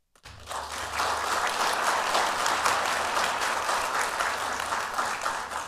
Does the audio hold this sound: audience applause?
yes